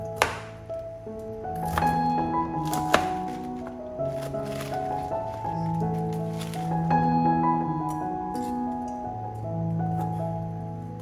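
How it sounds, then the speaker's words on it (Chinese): A knife cuts choy sum into sections on a board, with a series of firm, irregular chops and thunks heard over steady background music. "接着把甜菜心切成段"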